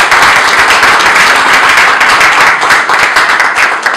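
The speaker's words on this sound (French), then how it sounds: "Est-ce qu'on peut s'applaudir s'il vous plaît?" A press conference audience breaks into loud, sustained clapping, a dense, even wash of many hands with no pauses and no speech.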